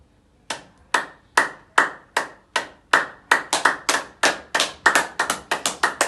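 A person claps by hand, with sharp, close, evenly spaced claps that start slow and speed up into a quicker steady rhythm of around twenty claps, with no talking.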